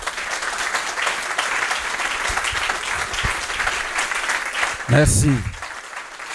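A church congregation in Béthune applauds Jesus Christ, steady dense clapping throughout, with a short spoken word near the end over the applause.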